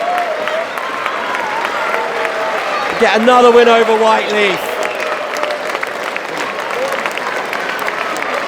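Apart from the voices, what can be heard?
football crowd cheering after the final whistle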